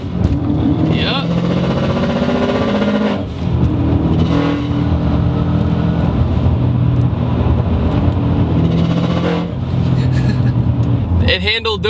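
Cosworth-tuned Subaru Outback engine pulls and revs through corners in steady in-cabin drone, easing off the throttle and building again, with a brief lift near the end; a voice talks over it.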